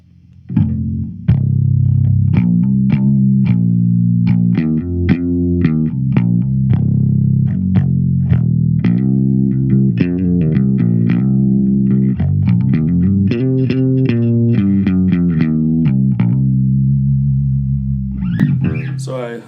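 Bass guitar played with a clean tone through a doom metal pedalboard, sustained low notes in a slow melodic line, loud and close with a chorus-like shimmer, alone without talk.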